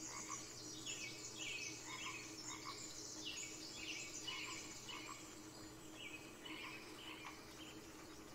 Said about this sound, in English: There's a lot of frogs.